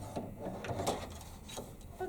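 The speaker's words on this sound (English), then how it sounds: "So I'm going to go ahead and stitch the eyes and the mouth right now." A Kimberbell embroidery machine stitches eyes and a mouth in pink thread, giving a steady, close mechanical whir and rattle with quick repeated ticks throughout.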